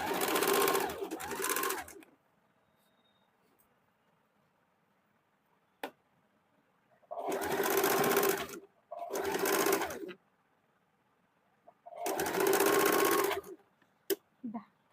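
A sewing machine stitches a half-inch fold on a strip for a blouse in bursts of a couple of seconds each, with the rapid needle chatter stopping between runs and a few light clicks in the quiet gaps.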